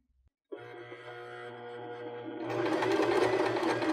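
A sewing machine set to center needle position and a 2.5 stitch length bastes pom-pom trim onto a cork fabric pillow, starting with a steady close motor hum that swells into louder, rapid stitching partway through, with no talking.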